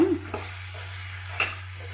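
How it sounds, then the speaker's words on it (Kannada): Green pigeon peas are stirred as they fry in a pan for a North Karnataka palya. A low sizzle runs underneath two quick scraping strokes of the spoon, one near the start and one later, heard up close. "ತೊಗರಿ ಕಾಳು ಇದು ಚೆನ್ನಾಗಿ ಮಿಕ್ಸ್ ಮಾಡ್ಕೊಳ್ರಿ"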